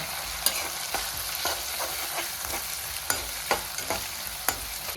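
Onions with ginger garlic paste and a pinch of turmeric fry in oil while being stirred, a continuous sizzle punctuated by regular sharp spatula taps against the pan.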